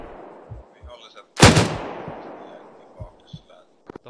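A loud tank cannon blast in a military video game battle booms out near the middle, trailing a long rumbling decay, with softer distant shots and thumps scattered around it and voices talking in the background.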